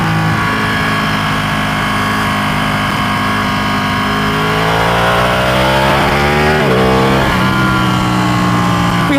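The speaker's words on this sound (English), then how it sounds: "This bike sounds great too with this Terminioni exhaust, and it's just a slip-on." Ducati Panigale 1199R motorcycle fitted with a Termignoni slip-on exhaust, loud and close, holding a steady throaty drone before revving up and down through several rising and falling sweeps.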